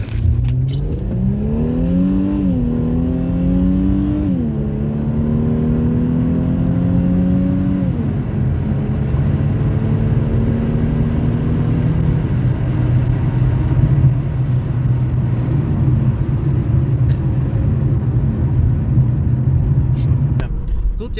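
An Infiniti Q50 accelerating hard on a highway gives a loud, close engine roar that climbs in pitch through several gear shifts and then settles into a steady drone over road rumble.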